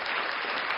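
Applause sound effect, a short dense burst of many hands clapping at once, even and bright, lasting under a second.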